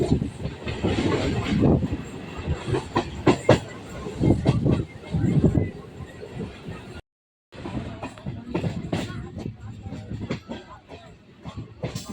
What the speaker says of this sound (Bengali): ট্রেন এখন চলে আসলো